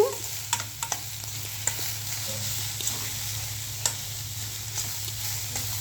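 Cabbage sizzling and stir-frying in a pan, with a steady close hiss under occasional scraping and stirring clicks and a low background hum.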